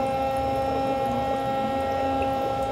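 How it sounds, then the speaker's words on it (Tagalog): A foot spa's steady motorized hum with bubbling water churning underneath, constant and close throughout. "Pumupunta yung bubble sa paa mo."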